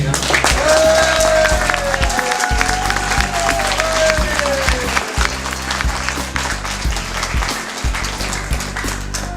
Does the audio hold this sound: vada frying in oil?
no